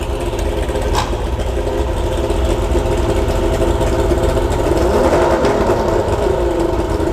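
A boat motor on a Bass Cat bass boat idles with a steady, loud, continuous rumble and slight rattling, unchanging for several seconds with no voices.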